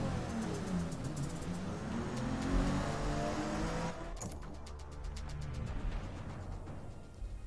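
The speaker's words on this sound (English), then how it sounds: "Gotta love the sound of a straight cut gearbox, a racing gearbox." A racing car with a straight-cut gearbox runs in Forza Motorsport (2023), its engine whining and revving steadily near the listener, then shifting tone partway through as it continues under sustained drive.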